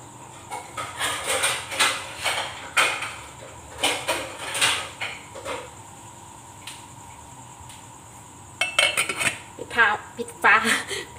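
Metal pots, lids and utensils clatter and clink repeatedly while a Thai mushroom curry is cooked on a gas stove, with irregular close knocks and scrapes and a brief pause midway.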